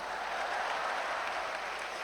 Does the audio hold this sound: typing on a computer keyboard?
no